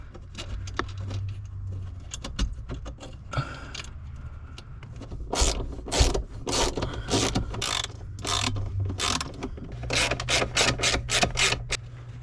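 14 mm bolts being cinched down on a second-generation Toyota 4Runner clutch pedal bracket, with rapid bursts of ratchet clicking and metallic scraping close by, pausing between runs.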